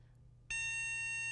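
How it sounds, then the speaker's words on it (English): A liquid level indicator hung on a cup sounds a sudden continuous electronic beep as the poured fluid nears the top. The steady tone cuts in partway through over a faint background hum. "it'll beep, so you don't over pour the fluid"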